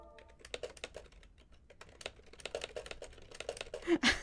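Rapid, fairly quiet keystrokes on a computer keyboard, an irregular run of clicks that grows busier and louder toward the end.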